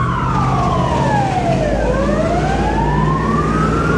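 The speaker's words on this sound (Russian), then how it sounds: "Пожарная едет." A fire engine siren wails loudly through a city street in Odessa, its pitch sweeping down then up again as the truck passes close by over steady traffic rumble.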